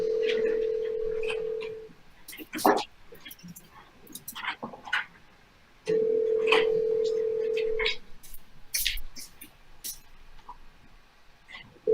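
A telephone on a call gives two long ringback tones a few seconds apart. Between them come clicks and faint voices in the background.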